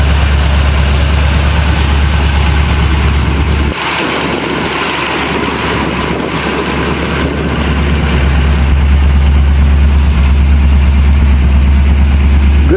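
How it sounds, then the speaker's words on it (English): A 1979 Chevy G20 van engine idles loud and close, a steady low rumble with a raspy exhaust edge from a muffler with a hole in it, briefly dipping before settling back. "It really needs a muffler. Muffler's got a hole in it."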